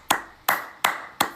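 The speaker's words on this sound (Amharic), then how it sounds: "ጭብጨባ ነው።" Four sharp hand claps, close and evenly spaced at a slow, deliberate pace, each one bright and crisp with a short decay and nothing else in between.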